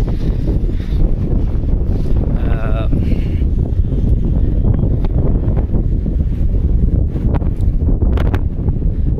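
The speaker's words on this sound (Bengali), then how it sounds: "খুবই বেগে হাওয়া বইছে" Strong night wind on a seashore buffets the microphone in a loud, constant roar with gusty rustling throughout.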